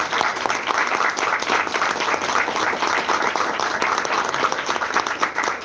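A church congregation claps together in a dense, continuous burst of applause, steady and fairly loud for several seconds with no voices standing out.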